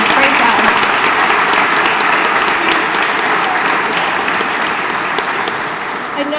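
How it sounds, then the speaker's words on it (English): Applause at a State Capitol event: a crowd claps steadily and loudly in a dense, even roar that holds for several seconds and tapers off gently at the close. "Give everybody a round of applause."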